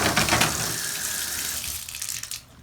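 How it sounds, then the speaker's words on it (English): Water gushes steadily from a tap into a sink, loud and close with a broad hiss, easing slightly toward the end as the flow is shut off. "Turn the water off."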